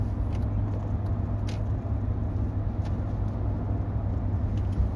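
Steady engine drone of a 2003 BMW 530d Touring with automatic gearbox cruising on a motorway, a constant low rumble with road noise and no talking.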